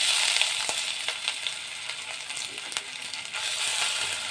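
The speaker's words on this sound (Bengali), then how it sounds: "ভালো করে নেড়ে নিচ্ছি আদাটা" Ground ginger paste sizzles steadily in hot oil with whole cumin tempering, with a few soft scrapes and taps as it is stirred, close and continuous.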